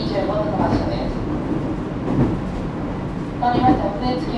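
Echigo TOKImeki Railway ET127 series train with Toyo GTO-VVVF traction running between Arai and Naoetsu, a steady rumble of wheels and motor with tonal inverter whine rising at moments, heard from inside the car with a station announcement voice over it.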